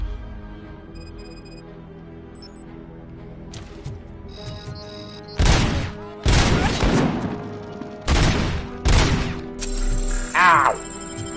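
Heavy .50 caliber sniper gunfire in the video game Robocop: Rogue City: several loud, booming shots in separate bursts with sharp, broad cracks, set over a steady game soundtrack.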